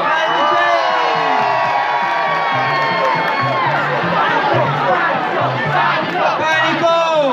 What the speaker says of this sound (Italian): lo accogliamo con un urlo